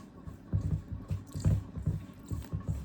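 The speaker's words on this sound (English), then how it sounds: "I'm going to knead this flour." Flour dough for Jamaican spinner dumplings is kneaded by hand, making soft, wet squishing and slapping pushes in a repeating rhythm, close and fairly quiet.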